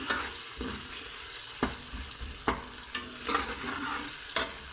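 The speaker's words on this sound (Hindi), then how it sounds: "जैसा कि आप देख रहे हैं प्याज भी हमारे फ्राई हो रहे हैं" Onions frying in a pan for a potato and egg curry, a soft constant sizzle punctuated by regular spatula knocks and stirring scrapes, close and moderately quiet.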